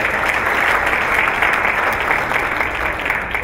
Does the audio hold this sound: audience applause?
yes